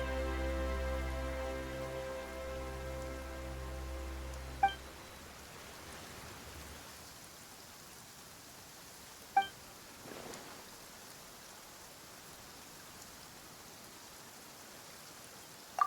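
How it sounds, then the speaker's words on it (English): Steady rain falling in Genshin Impact, a soft even hiss that settles in after the music fades, with a few faint chimes over it and no voices. "Why is it raining all of a sudden?"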